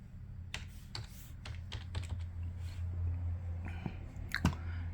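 Typing on a computer keyboard while entering a tool name in Mastercam X, a close run of quick irregular key clicks with brief pauses, alone over a faint room hum.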